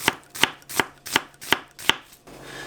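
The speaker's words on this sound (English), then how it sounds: "We're just going to walk the knife over." A knife chops through a sweet white onion on a cutting board, six sharp, evenly spaced strokes close up with no talking, followed by a brief quiet pause.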